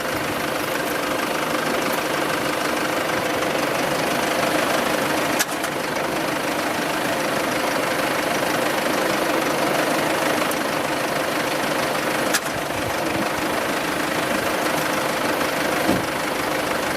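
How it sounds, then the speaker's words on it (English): A bus engine is cranked during a jump start and fails to catch, giving a steady, continuous low churning drone with a few sharp clicks, loud and close, with no voices. "you may have heard it, the vehicle would not start."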